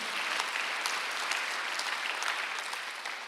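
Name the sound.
congregation applauding in church service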